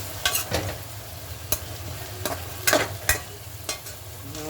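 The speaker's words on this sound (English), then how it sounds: "I'm stirring my seasoning, my carrot, my garlic, onion, sweet pepper, thyme." Carrot, garlic, onion, sweet pepper and thyme stirred in a hot pan, with repeated sharp spoon clacks and scrapes at an uneven rhythm over a continuous close sizzle.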